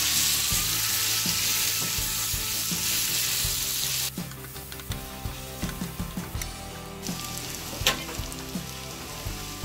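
Prawns fry in a hot pan with oil, giving a loud continuous sizzle that drops in level partway through as stirring begins, with repeated scraping and clinking of the spoon against the pan and no voices.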